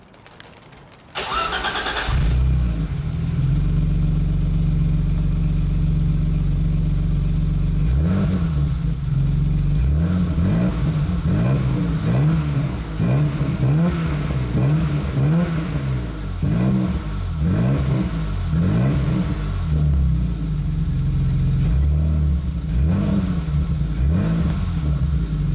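A 1989 BMW E30 320i Touring fitted with a Scorpion exhaust starts up close by, then settles into a loud, steady idle. The driver blips the throttle through repeated rising and falling revs, and the engine keeps running throughout with no talk.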